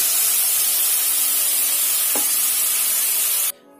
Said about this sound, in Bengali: এবার আমি গুলিয়ে রাখা কাজু, সর্ষে আর জিরে মিশ্রণটা দিয়ে দিচ্ছি।